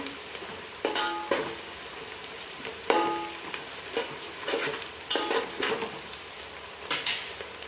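Chillies and asafoetida sizzle softly in hot oil while being stirred, with a quiet frying hiss punctuated by scraping stirs and light clinks against the pan.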